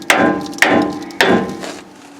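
A hammer taps a Nissan Titan transmission mount into place with three sharp, evenly spaced metallic knocks, close and loud, each ringing briefly before fading.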